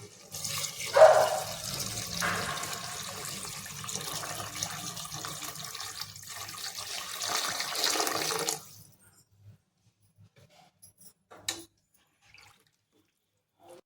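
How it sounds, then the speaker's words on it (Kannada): Water pours and splashes steadily into a cooking pot of rice for pulao for several seconds, then stops abruptly, leaving only a few faint drips and clinks in the quiet. "ನಾನು ನೀರನ್ನು ಅಕ್ಕಿ ಎಷ್ಟು ತೊಗೊಂಡಿದ್ದೀನೋ ಅದರ 2ರಷ್ಟು ನೀರನ್ನು ಹಾಕೋತಾ ಇದ್ದೀನಿ"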